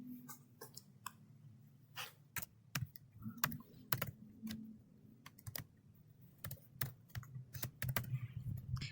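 Someone types on a computer keyboard: irregular bursts of crisp key clicks, quick runs and single taps close by, with no voices.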